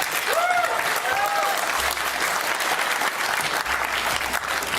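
A debate audience in a hall bursts into applause and cheering, a dense clatter of clapping with a few voices, which swells and then continues steadily over the short stretch.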